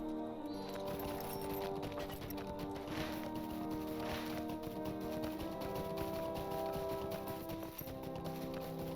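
Horse hooves gallop in the Lord of the Rings Online video game, a steady clip-clop running under layered game music and ambient tones, moderately quiet throughout.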